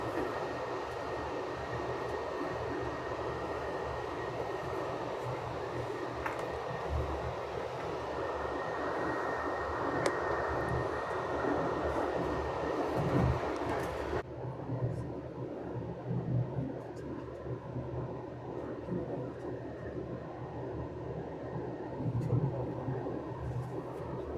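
Steady rumble of a passenger train travelling between Vancouver and Toronto, continuous rolling noise with faint rattles and a sudden drop in brightness midway, as if passing into a cutting or shelter.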